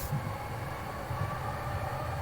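Steady train noise from the video game Eliza, a continuous low rumble and rolling hum with no speech over it.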